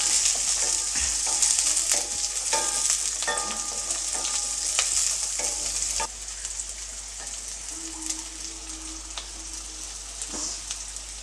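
Green chilies and a large chopped onion sizzle steadily in oil in a pan, a dense bright crackle with scattered pops and light scraping of a spatula, somewhat quieter in the second half, no voices.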